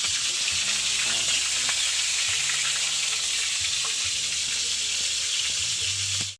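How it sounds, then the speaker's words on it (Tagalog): Onion, ginger, garlic and green chili fry in hot oil for lapu-lapu escabeche, a loud, dense, continuous sizzle close up, with faint stirring knocks and a low hum underneath, no voices. "Lulutuin ko na ng escabeche."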